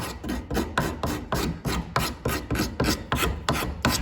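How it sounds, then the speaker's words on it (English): Hand scraper drawn in steady rhythmic strokes across a wooden garden bench surface, about eight close, even rasping passes with no talk. "The other thing I could always do is I could take a scraper"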